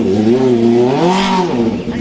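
A motorcycle engine revs up and down in a loud, droning whine that rises and falls over a couple of seconds, close by.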